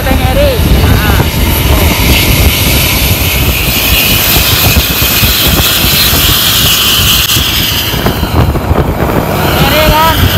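A bus fitted with a loud aftermarket Srigala exhaust roars continuously at close range, a thunderous, sustained engine-and-exhaust drone with revving swells that sounds almost like an aircraft taking off; voices can be heard beneath it.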